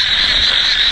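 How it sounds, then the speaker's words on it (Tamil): A frog croaks in a forest at night, a loud, continuous buzzing trill that holds steady and close throughout, with no other sounds. "ஆமாம் கத்துறது தவளை தானே?"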